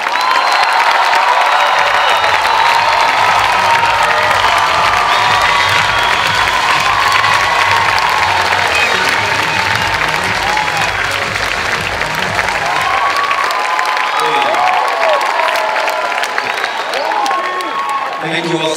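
A large graduation ceremony crowd at CalArts breaks into sustained applause with cheering and whoops, loud and dense throughout, with shouting voices rising over the clapping before it thins toward the end.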